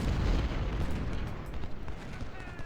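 Artillery and rifle gunfire in the Ultimate General: Civil War video game, a dense, continuous rumble of booming shots and crackling volleys throughout, loud and unbroken with no talk.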